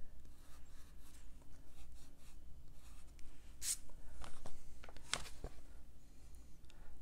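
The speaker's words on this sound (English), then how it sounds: "So I'm just going to erase this line." Pencil eraser rubbing out a line on watercolour paper, soft quiet scratchy strokes in short bursts with a few brief sharper swipes, faint and close.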